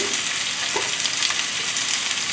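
A vegetable stem going into a hot pan while brown rice and vegetables cook with curry, with a loud, steady sizzle and frying crackle close up, continuous throughout and without talk.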